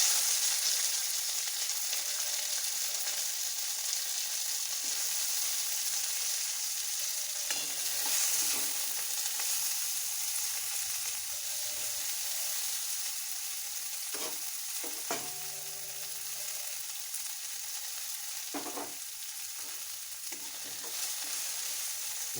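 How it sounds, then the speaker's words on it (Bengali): Sliced bitter gourd frying in a pan for shukto makes a faint, steady sizzle, with a few light clinks of a utensil stirring now and then. No speech. "উচ্ছেগুলো ভাজছি।"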